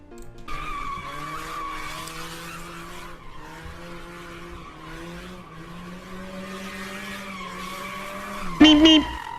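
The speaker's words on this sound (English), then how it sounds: "It is a car meet, donuts going on as usual" Cars doing donuts at a car meet, loud sustained tire squeal with skidding pitch wavering over engine noise, ending in a sharp louder screech.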